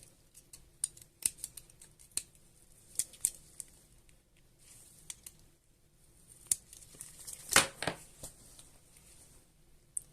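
A razor blade slices material to make an NPAS for a VFC MP5 airsoft gun, producing sparse sharp scraping snips close by, with a longer, louder cut partway through.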